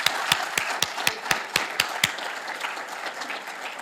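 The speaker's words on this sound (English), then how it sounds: "let's give everyone a nice hearty round of applause" Audience applause at a 2020 Westland inauguration ceremony: a burst of sharp, fairly close individual claps in a steady rhythm for about two seconds, then a softer, denser crowd clapping that carries on and tapers.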